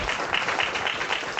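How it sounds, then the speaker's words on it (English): Session participants applauding themselves at the close of a communication insights talk, a short, steady wash of clapping, moderately loud and continuous throughout. "Please give yourselves a round of applause"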